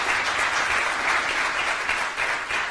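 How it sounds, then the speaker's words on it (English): Steady applause from a conference audience at a panel session, dense and continuous throughout with no gaps, fairly loud and close. "A big applause."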